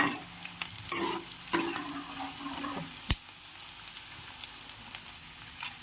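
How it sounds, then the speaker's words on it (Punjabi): Edible gum (gond) frying in a pan over a low gas flame, with a steady close sizzle, occasional soft stirring scrapes and one sharp clack near the middle. "ਗੋਂਦ ਸਾਡਾ ਤਲ ਚੁੱਕਿਆ"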